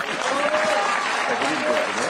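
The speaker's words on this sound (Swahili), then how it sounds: "Makofi." Audience applause at a Kenya Kwanza meeting with people with disabilities in Nairobi County, a dense, even burst of clapping with some voices mixed in.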